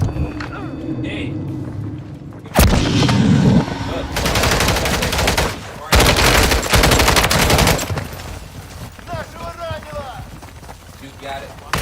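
Gunfire in the Modern Warfare 3 zombies video game comes in loud, dense automatic bursts that start and stop abruptly, with in-game radio voices and action noises heard between the volleys.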